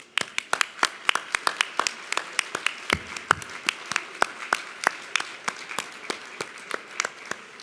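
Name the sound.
audience applause for planning committee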